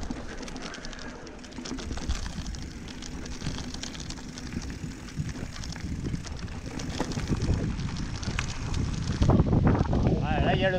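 Steady outdoor wind rushes and buffets the microphone by a lake in Iraty, with a person talking faintly in French beneath the gusts.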